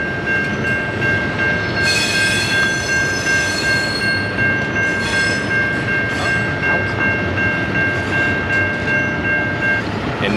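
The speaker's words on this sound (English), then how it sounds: "it's the CN train's turn." A CN freight train passes a busy Midwest railfanning spot, its loud continuous rumble and wheel noise joined by a long sustained horn blast that sounds close by for most of the stretch.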